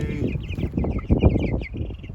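Cornish Cross meat chickens cluck and chatter continuously at close range, a dense overlapping flock with a few louder calls standing out, no talking.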